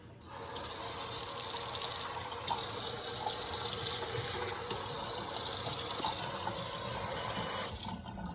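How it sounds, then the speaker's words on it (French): Water runs steadily from a tap into a vessel for a meat sauce, a continuous close gushing hiss that swells briefly near the end before stopping. "On va faire la sauce pour la viande avec un peu d'eau."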